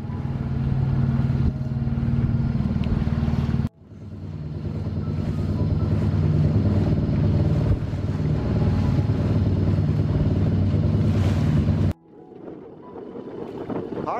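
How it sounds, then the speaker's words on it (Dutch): Sailboat running under its engine on the way to Harlingen, with a steady low drone and throbbing hum that holds throughout, wind buffeting the microphone, and a brief break partway through. "Alleen ik moet nu even motoren tot Harlingen."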